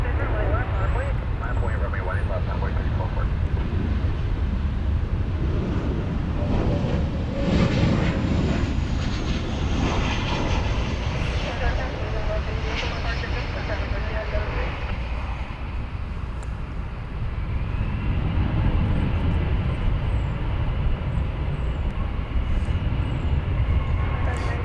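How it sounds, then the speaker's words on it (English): An American Airlines Boeing 737-800 arriving from Vancouver lands at DFW Airport, its broad engine roar steady and fairly loud throughout, with a person talking over it. "American Airlines from Vancouver. That's what we're waiting for. It's a 737-800, and we should be seeing it"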